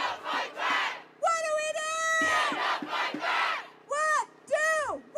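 A crowd of protesters outside a governor's mansion chants and shouts in rhythmic bursts, loud and close, with a lone voice calling out between chants.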